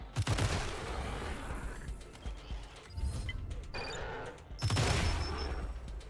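Gunfire in Wasteland 3, several loud bursts of shots in clusters separated by brief quieter stretches with faint clicks and tones.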